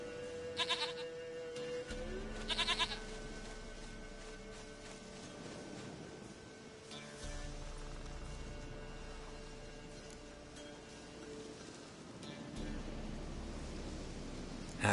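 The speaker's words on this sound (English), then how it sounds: "Goat of mine, dearest," A goat in The Witcher 3 video game gives a few short, bright bleats early on over a continuous game ambience of hum and rustle, with occasional other faint noises later.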